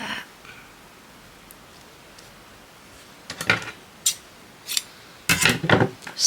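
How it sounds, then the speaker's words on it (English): Scissors snip through delicate lace with a few crisp, close cuts coming in quick bursts after a quiet start, and nobody speaks. "Snip that off."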